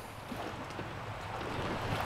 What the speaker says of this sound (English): I can hear the wind, but I don't have to feel it anymore.